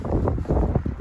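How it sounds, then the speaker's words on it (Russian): Wind blowing outdoors in Croatia just after a door is closed, a short gusty rush of air buffeting the microphone with low rumbling noise. "Ветер."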